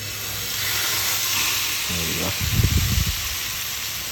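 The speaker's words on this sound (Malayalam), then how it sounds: "അടുപ്പത്ത് കയറ്റാം, ഫ്രൈ ചെയ്തെടുക്കാം." Red snapper fish fry in Kerala style, sizzling in a hot pan as a steady close hiss, with a brief sputtering burst partway through; a voice speaks faintly underneath.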